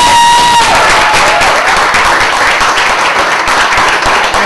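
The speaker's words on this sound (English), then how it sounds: "Clap that shit up." Loud applause and some cheering from an audience at a spoken-word poetry show, a dense wash of clapping that holds steady, with a brief tone fading out at the start.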